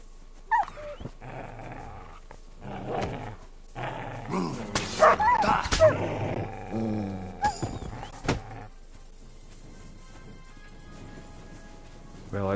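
A dog growls and gives short barks and whimpers in the medieval game Kingdom Come Deliverance 2, in bursts alongside a man's speech, the sounds coming close and moderately loud over quiet stretches.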